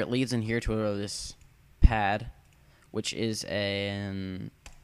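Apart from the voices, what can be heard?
No distinct noise like a dog, phone or traffic.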